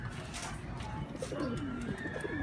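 A racing pigeon arrives at its loft after a training release from Lucena, Quezon, and gives soft, low cooing calls nearby. The coos are faint and sit over a quiet outdoor background with no talking.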